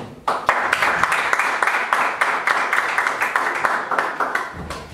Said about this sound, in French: Je pense qu'un encouragement par les applaudissements serait le bienvenu